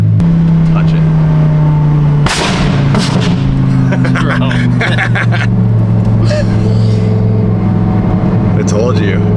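An Audi R8 engine revving loud and close with sharp exhaust pops and crackles, a steady drone that drops in pitch and then breaks into sputtering bangs.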